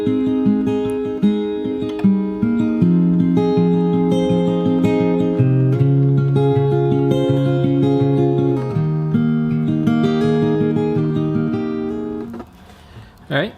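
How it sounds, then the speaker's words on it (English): The four-bar intro is played fingerstyle on acoustic guitar with an alternating bass pattern, clear plucked notes ringing near and alone until a brief fade. "So the 4-bar intro sounds like this."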